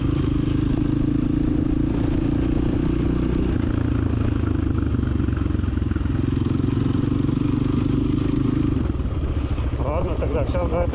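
Two small-displacement motorcycles ridden on a road trip through old Russian countryside, a steady loud engine drone with road clatter that shifts near the end as the bikes slow.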